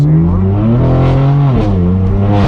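Straight-piped BMW M4 exhaust at a highway entrance, loud and close, with a steady droning engine note whose pitch dips and rises as it shifts, crackly pops scattered through, no talking.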